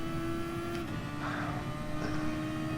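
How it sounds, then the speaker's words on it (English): A racing car engine holds a steady, droning buzz with a constant pitch that dips briefly, carrying on continuously at moderate volume without any talk. "Engine note sounds gorgeous on that car."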